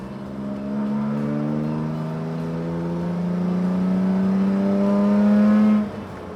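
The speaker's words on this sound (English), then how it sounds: "Just love that exhaust note." A BMW 3 Series sports sedan engine revs up with a rising, throaty exhaust drone that climbs steadily in pitch, then cuts off sharply near the end.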